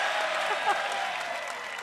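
Short burst of steady audience applause at a live sports show in Columbus, a dense wash of clapping with no gaps.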